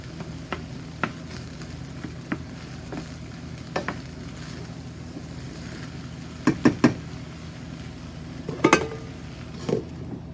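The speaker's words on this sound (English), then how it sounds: "So we'll add a couple tablespoons of water and stir that around" Rice sizzles softly in a skillet after a splash of water, a low steady hiss under the sharp knocks and scrapes of a spoon stirring to the bottom of the pan.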